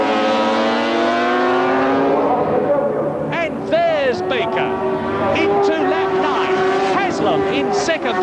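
Formula 750 racing motorcycles, including Yamahas and a Kawasaki, roar past at Brands Hatch in 1977. Their engines whine continuously and rise and fall in pitch as they pass, under steady race commentary.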